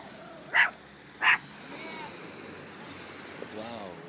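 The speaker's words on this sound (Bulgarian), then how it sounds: "Някакви малтийски кученце." A small Maltese puppy gives two sharp barks outdoors near the sea, with wind and surf rumbling steadily underneath and a faint voice afterward.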